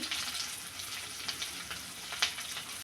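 Shrimp, cut and washed, fry in hot oil in a pan, giving a steady close crackling sizzle with a few sharper pops, and no voices over it.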